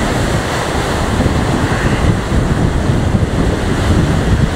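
Stormy sea surf churns and crashes continuously while strong wind roars and buffets the microphone, loud and unbroken with no voices.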